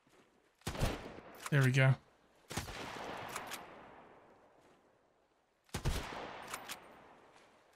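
Gunfire in the survival game Sunkenland, a sniper rifle among the weapons: a few sharp shots with ringing tails, spaced apart, one burst landing near a short spoken remark.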